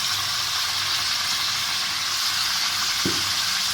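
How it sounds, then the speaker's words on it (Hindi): Chicken frying in a pan with tomato paste makes a steady, close, bright sizzle, with a brief stirring scrape near the end. "2 से 3 मिनट हमने चिकन को भूना है और इसमें हमने टमाटो पेस्ट शामिल कर दिया"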